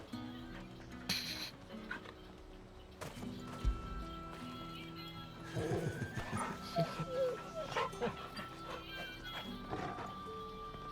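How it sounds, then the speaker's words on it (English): A dog barking in the video game Final Fantasy XVI, a few yips and barks amid hoof clops, footsteps and ambient game sounds, moderately quiet in the mix with speech nearby. "A great hunting dog and a guard dog"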